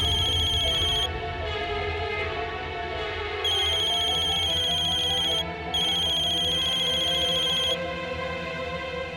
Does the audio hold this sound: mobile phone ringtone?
yes